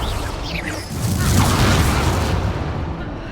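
A Confringo blasting spell explodes in Hogwarts Legacy, a loud rumbling burst that swells and rolls for a couple of seconds before fading, with a brief whooshing sweep of spell effects near the start and no talk over it.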